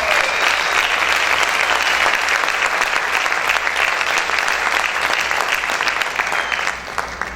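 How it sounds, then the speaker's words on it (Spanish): A church congregation claps hard and continuously, a thick, loud patter of many hands that holds steady before easing slightly at the very end. "Aplaude fuerte al Señor."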